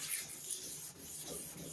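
A plastic headlight lens is sanded and polished by hand, a soft, steady rubbing and rasping that is quiet and close, with no talking.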